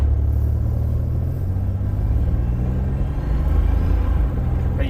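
Buick Grand National engine runs with a steady low rumble, heard from inside the car as it drives, loud and continuous with no talking.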